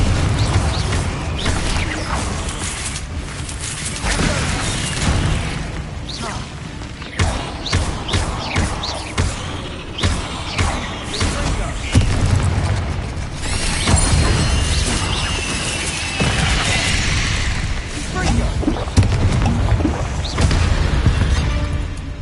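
Repeated fire-spell explosions in Hogwarts Legacy gameplay inside a tomb, loud booming thuds and crashes bursting again and again over a dense, busy game soundscape.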